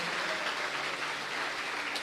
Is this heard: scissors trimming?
no